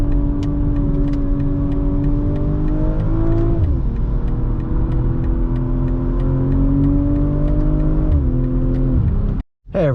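A 2024 BMW M340i xDrive engine hums loud and steady from inside the cabin, its pitch dipping and rising with gear changes and a brief cutout near the end.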